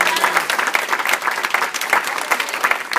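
A church congregation applauding during a sermon at a church anniversary service, loud continuous clapping from a large crowd with some voices mixed in.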